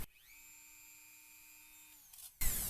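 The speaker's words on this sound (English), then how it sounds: "I'm going to drill out all the black area." A drill whirs with a high steady pitch for about two seconds while drilling out plastic in a 2005 Chevy Uplander, then winds down before a brief burst of harsh noise at the end.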